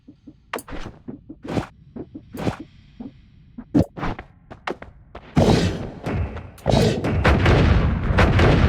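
Explosions in the video game Noita go off as a rapid series of sharp booming bursts. They then swell into a dense, loud, continuous roar of blasts over the final seconds.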